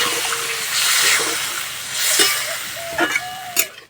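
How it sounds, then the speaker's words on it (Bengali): Water poured into a pot of potatoes for a thin fish curry, a steady rushing pour that swells and fades, followed by a few clinks and knocks of the pot. "আলু সিদ্ধ হওয়ার জন্য জল দিয়ে দেবো।"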